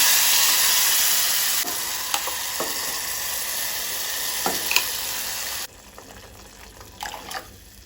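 Tomato puree poured into a hot dried-chilli tempering for Goan tomato saar, giving a loud steady sizzle that settles lower partway through, with a few spoon clinks and no talk.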